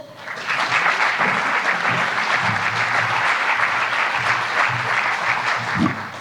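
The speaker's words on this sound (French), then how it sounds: "Vous pouvez l'applaudir." An audience at a business awards ceremony applauds warmly, a thick, even burst of clapping that swells quickly and stays strong throughout, with some low murmurs underneath.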